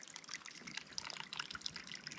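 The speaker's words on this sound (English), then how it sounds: "Looks like there's a spring flowing down from up high." Spring water trickling across a mountain trail in the Chiricahua Wilderness, a soft continuous babble with small bright drips and splashes, gentle and close.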